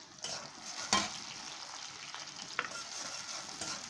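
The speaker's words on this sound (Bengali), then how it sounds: "আমাদের পেঁয়াজটা প্রায় ভাজা হয়ে গেছে।" Sliced onions frying in oil with garam masala, a soft continuous sizzle broken by a few sharp clinks and scrapes of a stirring spoon against the pan. No one speaks.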